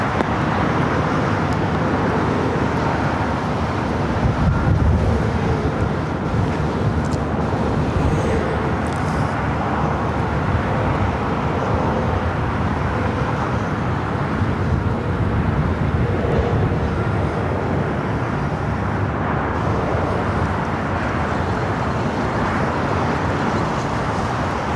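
Jet airliner taking off from runway 25 right at Los Angeles International Airport, a steady broad roar of engines holding constant and heavy throughout, with no talking.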